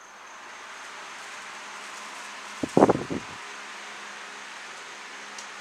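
A newly fitted electric fan runs through a speed test, giving a steady, even whir that fills the whole stretch, with one brief louder bump near the middle.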